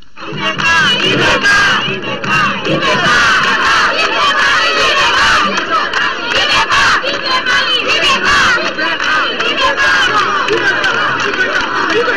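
A large, dense crowd in Badjangara, Mali, cheers and shouts loudly and continuously for the country's president, Ibrahim Boubacar Keïta, the roar sustained throughout with no clear single voice standing out.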